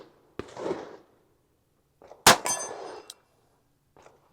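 A Colt Python revolver fires 158 grain rounds outdoors, with two sharp, loud reports about two seconds apart, each trailing a brief ringing decay, followed by a faint softer knock.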